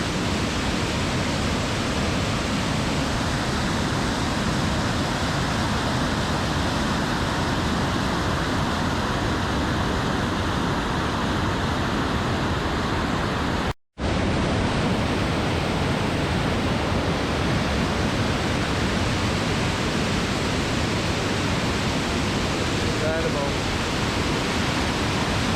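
Large volume of water rushing down Backwater Dam in Scotland: a loud, constant roar close by, unbroken except for a split-second dropout partway through.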